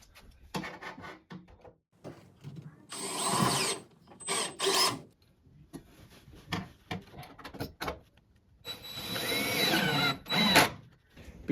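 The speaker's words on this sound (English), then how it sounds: "Use a drill and a long drill bit to turn in 4 mounting screws" Power drill with a long bit driving four mounting screws for a kitchen range hood, heard as several loud bursts of whirring and ratcheting separated by quieter handling clatter.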